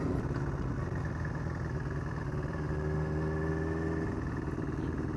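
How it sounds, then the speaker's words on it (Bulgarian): A motorcycle engine, freshly serviced with new oil, antifreeze, spark plugs and filters, idles smoothly and close by as a steady low rumble, with a gentle rise in revs toward the end and no voices. "Аз съм потресен колко спокоен е мотора и съвсем леко като му давам газ, тръгва много по-плавно."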